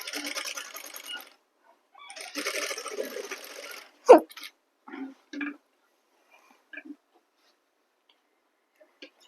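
A sewing machine stitches the side seam of a suit in two short whirring runs, followed by scattered clicks and taps of handling, close and clear, with no voices.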